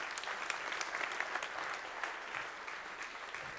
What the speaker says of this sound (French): Je demande que vous l'applaudissiez parce que c'est vraiment un homme formidable aussi.